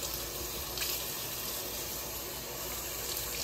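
Steady water stream rinsing bleach out of a lace frontal wig, a continuous broadband hiss of running water at close range with no talking.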